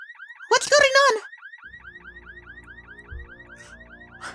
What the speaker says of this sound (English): is it the security alarm?